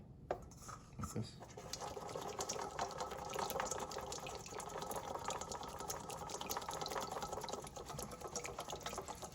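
Liquid is slowly dripped into Caesar salad dressing while it is whisked, giving a steady wet stirring and splashing texture that runs continuously at close range.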